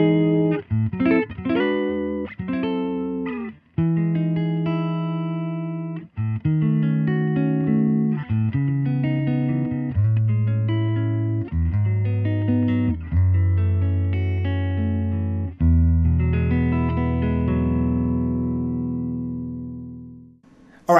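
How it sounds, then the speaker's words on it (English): Electric guitar through the neck-position full humbucker, played alone as a series of fat, warm chords and single notes, each ringing out and the last one sustaining into a slow fade. "I'm now selecting this neck position pickup as a full humbucker, great for jazz chords and just any really fat sound that you want out of a guitar."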